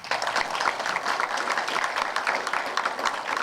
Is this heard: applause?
yes